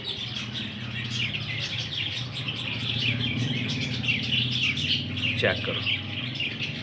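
Qasori breeder pigeons call and chirp steadily at moderate distance, with a voice speaking briefly over the birds.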